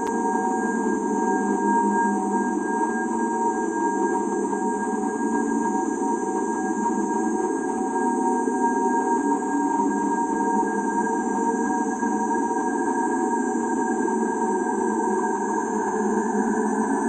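Sonified NASA space recording rendered as music: a steady, continuous roaring drone with sustained layered tones and a high whine, unchanging and loud throughout, with no voices.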